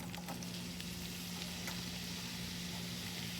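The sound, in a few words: bay leaves and dried chillies frying in oil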